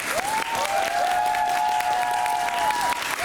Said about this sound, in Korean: 우리 박민성, 유찬열 배우님들께 다시 한번 좀 큰 박수 부탁드리겠습니다